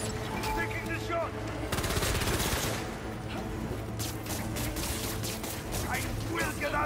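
Gunfire in the PS5 game Spider-Man 2 during a Scorpion versus Kraven fight: dense bursts of shots and clattering impacts packed over a loud, busy game soundtrack, continuous throughout with shouting voices mixed in.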